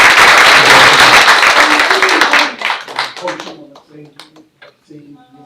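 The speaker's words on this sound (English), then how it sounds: "Give you a round of applause as well" An audience at a school board of education meeting breaks into loud applause that fades out after a few seconds into scattered claps and voices.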